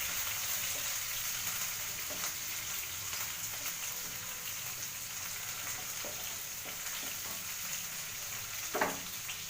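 Onion and peanuts frying in oil for avalakki chitranna, a continuous loud sizzle with faint stirring scrapes and one brief clink near the end, no voices.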